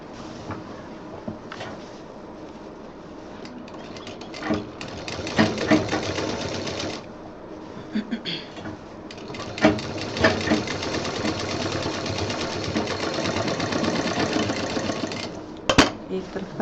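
A sewing machine stitches a DIY handbag in several runs, with pauses and handling knocks between them, a steady whirring rattle close by, and a sharp click near the end.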